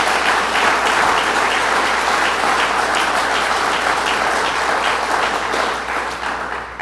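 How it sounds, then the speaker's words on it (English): Crowd applause at the opening of a rebuilt fire station in Upper Jay, loud and sustained with dense, even clapping that holds throughout and tapers slightly at the end. "Let's give everyone a round of applause who worked on this."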